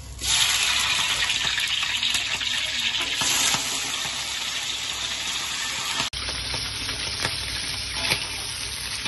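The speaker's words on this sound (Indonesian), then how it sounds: "langsung aja kita goreng udangnya ini sebentar aja sampai berubah warna" Loud, steady sizzling of shrimp frying in hot oil, a continuous crackling hiss with brief stirring clatter, close up.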